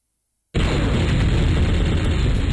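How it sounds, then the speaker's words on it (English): Airstrike explosion in the video game MechQuest, a sudden loud boom after half a second of silence that sustains as a dense roaring rumble to the end. "Maybe I can kill him with my next airstrike."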